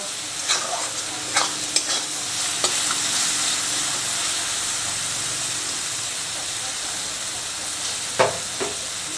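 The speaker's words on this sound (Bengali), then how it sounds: "मशलाटाके भालो करे एर साथे मिशिए नेब और 2 मिनिटेर मतो आमी एटाके कषिए नेब" Masala stirred and fried in a pan while making anda ghotala, a loud continuous sizzle and hiss with intermittent scraping strokes of the spoon, close and steady throughout.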